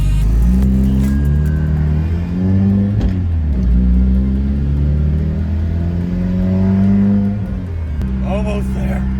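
A turbocharged Chevy Cruze being readied for racing warms up, its engine running loud and close with a steady, droning rumble and a gentle rise and fall in revs, sustained throughout.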